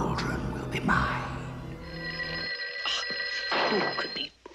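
A telephone bell rings in an animated villains scene, steady bright tones sounding over music and low voices, fairly loud and continuing through most of the moment.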